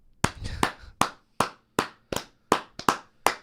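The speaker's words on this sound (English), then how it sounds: "But let's give Hugh Hefner a round of applause" Single pair of hands clapping in a slow, sharp, uneven rhythm, about nine crisp claps close to the microphone in a quiet room, with no crowd joining in.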